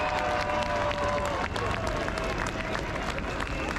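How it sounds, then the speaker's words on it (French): Crowd applause at a protest against mandatory vaccination at Place du Trocadéro in Paris, a dense patter of many hands clapping steadily, with some voices mixed in. "on peut d'ailleurs les applaudir, ceux qui sont là pour la première fois."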